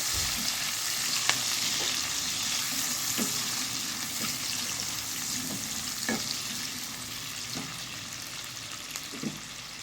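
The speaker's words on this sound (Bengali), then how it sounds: "পেঁয়াজটাকে মোটামুটি একটু ভেজে নিতে হবে" Onions sizzle steadily in a hot pan while a utensil scrapes and stirs them now and then, close up with no talking.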